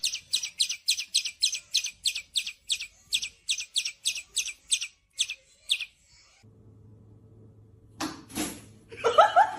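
Birds chirp in a rapid run of about twenty sharp, evenly spaced tweets at a pigeon release back into the wild, followed by a pause, then scattered rustling and a few brighter calls.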